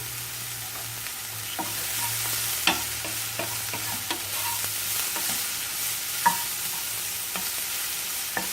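An omelet with thyme fries in a pan and gives a steady close sizzle, with scattered clicks and scrapes of a utensil over about nine seconds, and no talking.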